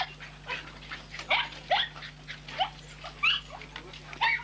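A mongrel terrier whimpers and yips in short, high, repeated bursts at close range over a low steady hum, with a few quick rises and falls and no speech.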